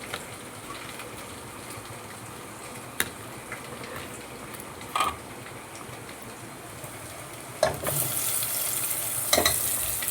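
Masala paste with crushed garlic roasts in a pan, a soft continuous sizzle under a few sharp scrapes and knocks of the stirring spoon, growing louder and hissier near the end.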